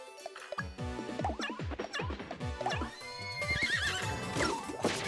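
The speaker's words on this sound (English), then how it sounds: "Oh, horse attack." A horse attack in the Miitopia video game, with repeated loud whinnying neighs and hoof-like clip-clops over busy game music, ending in a crashing hit.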